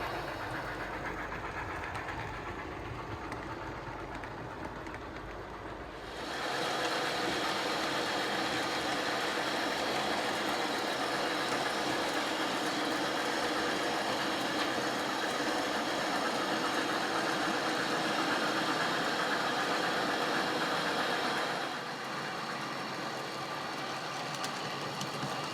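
An O scale model freight train runs on a home layout, giving a steady mechanical hum and rumble that swells louder in the middle stretch before easing back, with no talk.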